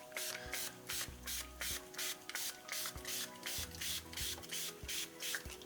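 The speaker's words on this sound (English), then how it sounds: "What if we go a little more in spraying in that direction?" Quick repeated pumps of a spray bottle misting water over art paints, about a dozen short hissing bursts in a fairly regular rhythm, close and crisp over quiet handling noises.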